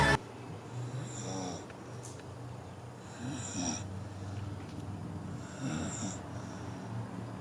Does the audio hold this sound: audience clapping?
no